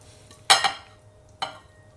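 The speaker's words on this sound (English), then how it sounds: "Now, my big bowl here. And I'm going to just pop in my bean sprouts." Bean sprouts are dropped into a big bowl in two quick bursts, a crisp rustling tumble followed by a shorter second pour, close and clear in a quiet home kitchen.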